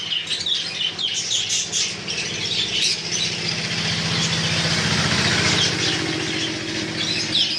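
Pineapple conures squawk repeatedly in shrill bursts at a bird seller's, loud and close over a constant mechanical hum, with no talk.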